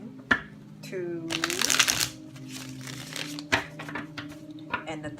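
A tarot deck shuffled by hand in several crisp bursts of fluttering card noise with sharp taps between them, close and fairly loud, while someone talks over the shuffling.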